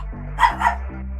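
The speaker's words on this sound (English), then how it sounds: "Got my doggo barking." A dog in the game Wizard101 gives two quick, close barks over a low, steady hum.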